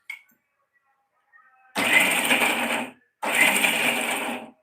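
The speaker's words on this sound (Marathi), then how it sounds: "मी आता ह्या वाटून घेते, पाणी घालूनच वाटले आधी असाच मिक्सरला." A kitchen mixer grinder grinds coriander with water into a paste in two loud bursts of about a second and a half each, with a short silence between them.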